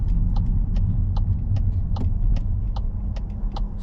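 A car rolls slowly into a supermarket car park in Leeds, a steady low engine rumble close by with faint regular clicks above it, no talking.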